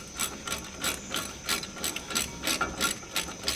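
A ratchet clicks in steady repeated strokes, close up, while loosening the brake caliper bracket bolts on a 2001 Ford F-150, with about a dozen even bursts and no talking.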